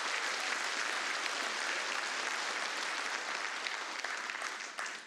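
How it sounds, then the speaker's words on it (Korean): A church congregation at a Sunday worship service gives warm applause for the accompanist, a thick, continuous wash of many clapping hands holding steady before tapering slightly at the end. "우리 반주하시는 분 위해서 한번 뜨거운 박수로 격려하시죠"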